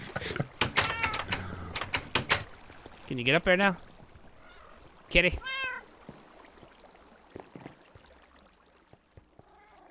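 Several loud, close meows from a cat in the Minecraft video game, clustered near the start and again around the middle, over a quiet game background with a person talking at times.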